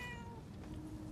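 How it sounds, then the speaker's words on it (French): A cat meows in the video game Murdered: Soul Suspect, one drawn-out tonal meow at the start over a low background hum that fades out afterward. "Oh, il y a un chat."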